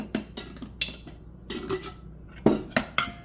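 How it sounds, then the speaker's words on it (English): Canned tuna is stirred with salt and pepper in a bowl, a utensil scraping and clinking against the dish in quick, uneven strokes, close and fairly quiet with no talking. "mix it up"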